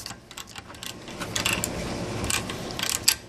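A ratchet snugs down a bolt in a series of quick, irregular metallic clicks and ticks, close by and fairly quiet, bunched into short bursts across a few seconds with no talking.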